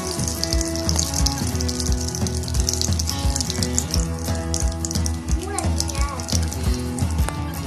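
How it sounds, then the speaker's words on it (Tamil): Mustard seeds and urad dal spluttering in hot oil on a tawa. Loud, busy sizzling and crackling with a few sharp pops runs throughout, close up, over a constant layer of other background sound. "இப்போ இந்த கடுகு உளுந்த பருப்பு நல்லா பொரிஞ்சு வந்துருச்சு இந்த எண்ணெயில்."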